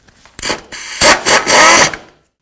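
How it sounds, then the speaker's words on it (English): Ratcheting and tool noise as a bolt is run down on a ribbed serpentine belt idler pulley of a 2007-2017 Ford Expedition, several short close bursts of clicking and grinding over about two seconds, then quiet. "We'll just go ahead and bottom this out, and then we'll torque it to 18 foot-pounds."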